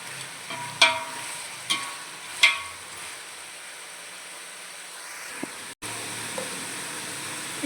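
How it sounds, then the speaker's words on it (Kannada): Mutton pieces fry in oil in a home kitchen, a faint steady sizzle punctuated by a few sharp clinks of a spoon stirring the pot, quiet and without talk. "ಮಟನ್ ಪೀಸ್ಗಳು ಸ್ವಲ್ಪ ಎಣ್ಣೆಯಲ್ಲಿ ಫ್ರೈ ಆಗೋ ಥರ ನೋಡ್ಕೊಳ್ಳಿ"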